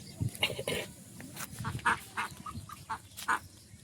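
Ducks quacking and honking in short, irregular bursts outdoors, fairly close and moderately loud, with several calls overlapping and no talk.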